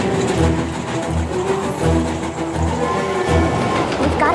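Train running in the Hidden Expedition: Smithsonian Hope Diamond video game, a steady rumbling roll with rhythmic clickety-clack beats repeating about every second, loud and continuous, with no talking.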